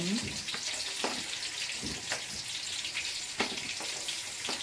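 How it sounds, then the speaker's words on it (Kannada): Onions added to a hot pan for a spicy chicken gravy, frying with a steady loud sizzle and a few faint clicks throughout, no talk. "ನೆಕ್ಸ್ಟ್ ಈರುಳ್ಳಿ ಓಕೆ ಈರುಳ್ಳಿ ಹಾಕೋಣ ಈಗ"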